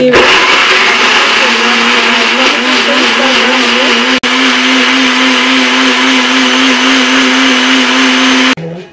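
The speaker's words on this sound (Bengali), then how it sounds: "এই জারটার মধ্যে আমি টমেটোটাকে ব্লেন্ড করে নিচ্ছি" An electric blender grinds tomatoes into a paste in a jar, a loud, close, steady whirring drone running for several seconds with a brief break midway, then stopping abruptly.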